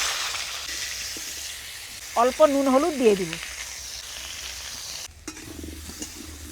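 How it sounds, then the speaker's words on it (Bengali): Potatoes and carrots fry in oil with a continuous sizzle and some stirring. Someone talks briefly over it partway through. "আলু গাজরগুলোকেও ভেজে নেব"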